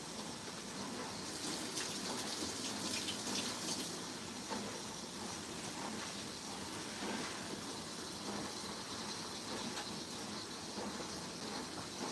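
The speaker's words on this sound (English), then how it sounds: "Wash my hand." Water runs from a kitchen tap as hands are washed during cooking, a steady close hiss with bursts of splashing.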